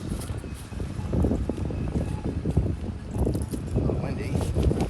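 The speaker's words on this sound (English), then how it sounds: "A little windy" Wind gusts buffet the microphone outdoors at an RV campsite, a rumbling, uneven low roar that swells and eases across the moment.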